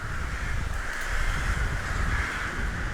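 Rooks caw in a bamboo forest at the start of winter, a dense flock calling continuously at a distance, their harsh overlapping cries forming a steady wash of sound.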